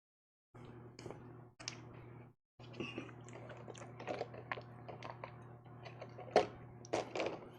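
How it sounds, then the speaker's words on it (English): Close, crunchy chewing of a macadamia nut cookie in repeated irregular bites, with clicks and crisp crackles over a steady low hum from a home broadcast setup. "Sorry if you're having to hear me chew"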